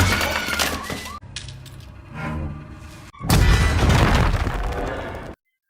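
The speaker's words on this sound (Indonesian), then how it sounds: "Mendengar ada ledakan granat" Grenade explosion in a crime drama, a loud, harsh burst of noise with debris-like crackle, broken into segments, then a final heavy blast that cuts off abruptly.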